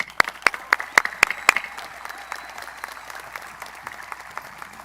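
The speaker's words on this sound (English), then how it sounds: "that deserves a round of applause for you guys" A burst of audience applause at a high school commencement ceremony, with several sharp claps standing out at the start before it settles into steady, moderate clapping.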